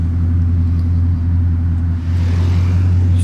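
A Bugatti Chiron Super Sport hypercar, rear wing raised, gives a loud, steady, deep engine roar that holds constant throughout, with no talking.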